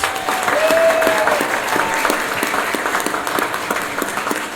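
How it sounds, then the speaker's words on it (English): A city council chamber audience applauds after a scout troop leads the pledge, dense sustained clapping at steady volume with a faint tone and murmur underneath. "Can we give them a round of applause?"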